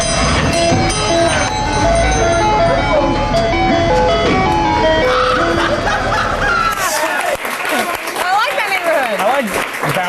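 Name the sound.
ice cream truck playing its jingle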